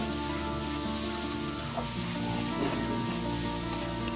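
Boiled jackfruit frying in a pan with onion and potato for a Bengali jackfruit curry, a steady soft sizzle throughout with faint crackles and no talk.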